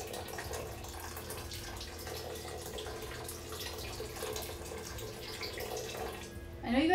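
Water runs steadily into a cooking pot for mushroom gravy, a soft, continuous trickle at close range that swells briefly louder near the end, while a voice talks over it.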